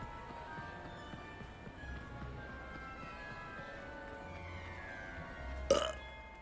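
A character in the video game Hogwarts Legacy gives a single loud burp near the end, as a polyjuice potion wears off, over a low steady game soundscape.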